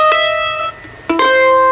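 A bluegrass mandolin sounds a bright ringing note, then after a short pause a quick pair of sharp plucked chords rings out, close and clear with no voices.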